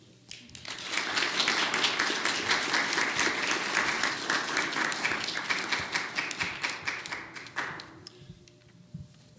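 Audience at a Raleigh candidate forum bursts into sustained applause, many hands clapping densely and steadily for about seven seconds before thinning into a few scattered claps near the end.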